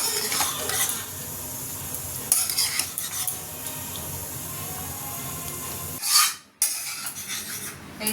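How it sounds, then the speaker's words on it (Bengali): Homemade chowmein is stir-fried in a pan, a loud continuous sizzle broken by rhythmic scraping and clattering of a spatula against metal, with a brief sharp burst near the end before the sizzling resumes. "আর একটু ফ্রাই করে নিই"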